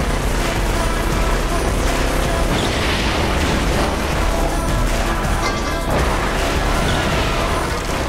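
Repeated car crashes and impacts in the racing game The Crew, as vehicles with reinforced chassis ram a target car, giving loud, dense smashes and booms one after another with no break.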